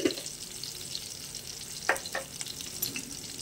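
Nigella seeds crackle in hot oil alongside fried climbing perch, a steady close sizzle with a couple of sharper pops and light stirring scrapes.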